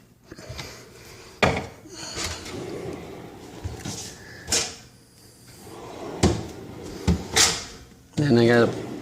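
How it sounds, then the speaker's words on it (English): Wooden drawers slid and set into a Rev-A-Shelf pull-out cabinet, several sharp knocks and thumps spread across the stretch between quieter rubbing, with a voice talking close by. "I'll put the drawers in and show it to you."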